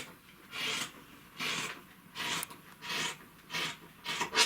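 Blouse fabric being cut with scissors in rhythmic strokes, about six swishing rasps spaced roughly evenly, close and moderately quiet.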